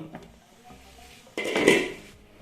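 A lid lifted off a steaming pot of Chinese fried rice in a home kitchen, a single short metallic clatter and scrape, close and fairly loud after a quiet stretch.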